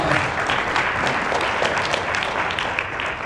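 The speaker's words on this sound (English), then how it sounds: "give Cookie a round of applause" An audience at a voice acting workshop at an anime convention breaks into steady, dense applause. The clapping is close and fills the room evenly for a few seconds, with only faint murmurs beneath it.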